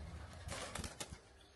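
Pigeon flapping its wings inside an abandoned military building, a brief flurry of rapid wingbeats close by, quiet and echoing a little before fading.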